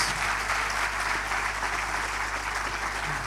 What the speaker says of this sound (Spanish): o premio que xa lle vai dar agora mesmo o público é un forte aplauso